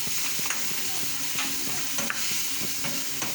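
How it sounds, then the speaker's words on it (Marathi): Ginger sautéed and stirred in a pan while making schezwan chutney, close frying sizzle broken by repeated scraping and tapping of a spoon against the pan, with no voices. "ते आपण परतूया। थोडं आलं जास्त नाही घालायचं,"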